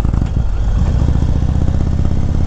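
A 2021 Indian Chieftain Dark Horse motorcycle on a test ride, its engine a loud, close, steady low rumble with a throbbing pulse throughout and no voice over it.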